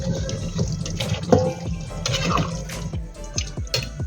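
Hot water splashing and pouring into a cooking pot for a goat meat curry, an uneven burbling stream with small drips and clinks, fairly quiet and close.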